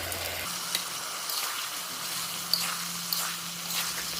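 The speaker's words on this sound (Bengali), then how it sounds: "বাটা মশলাগুলো দিয়ে ভালো করে এখন কষিয়ে নিচ্ছি" Meat frying with ground cumin, ginger and onion paste in a pan, a steady close sizzle running throughout with a few soft stirring scrapes and clinks, no talking.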